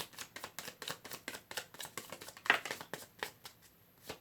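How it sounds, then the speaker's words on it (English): Tarot cards being shuffled by hand, a close, quiet run of quick rhythmic riffling taps and flicks with no talk. "last shuffle"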